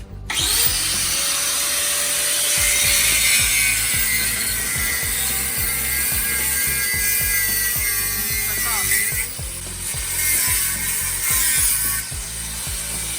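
An angle grinder cutting on a Lancia Delta rally car screeches steadily throughout, a high whining grind with a rapid low mechanical rattle beneath, continuous and close, dipping briefly near the end.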